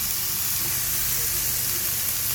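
Pork steak frying in its own rendered fat in a pan, a steady close sizzle and crackle running unbroken for a couple of seconds with no talk.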